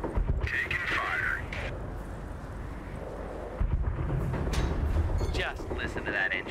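Battle sounds from the WWII strategy game Company of Heroes during the taking of Cherbourg: rumbling gunfire and explosions roll beneath radio-style unit voices, with sharper bursts punctuating the steady din.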